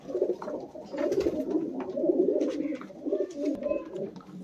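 Punjabi Malwai pigeons coo indoors close by, a soft rolling series of low throaty coos that rise and fall in overlapping phrases, with faint background noises.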